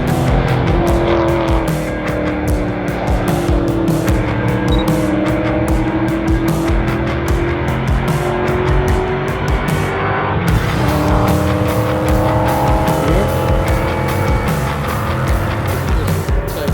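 TransAm race cars, including a Pontiac Firebird, thread through a field of 5 litre cars, their loud V8 engines snarling and rising in pitch continuously through gear changes, with tire squeal, close and dominant throughout.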